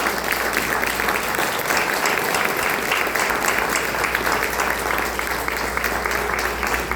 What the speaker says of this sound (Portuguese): dar uma linda salva de palmas para o Senhor Jesus, bem forte as suas mãos